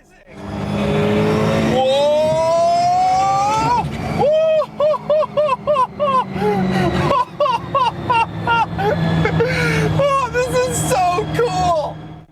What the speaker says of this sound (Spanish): ¡Dios! Este coche es rapidísimo. Los sonidos que hace son alucinantes.